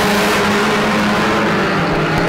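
A stock car in a Mildenhall banger and stock car race roars past close by on the track, its engine a loud sustained drone with a steady pitch, no talk over it.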